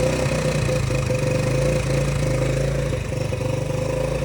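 A 1964 Ford Galaxie's new 390 V8 runs with a loud, steady, rough idle and a close mechanical clatter, after a choke-on start attempt, with no talking over it.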